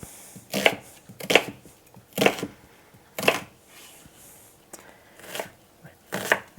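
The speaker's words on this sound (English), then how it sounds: "I'm going to use this whole onion because they're not super big, and by the time I get it chopped up and cooked down, it'll be fine." A knife chops through a whole small onion on a cutting board, about seven sharp, close knocks spaced unevenly with brief pauses between them, with no voices.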